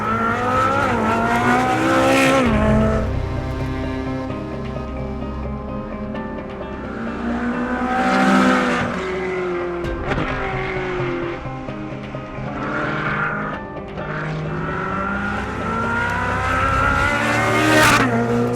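A 597bhp Ferrari 458 Speciale is driven hard on a race track, its engine loud and close as it revs up and down through the gears in repeated surges, with brief tyre squeal along the way.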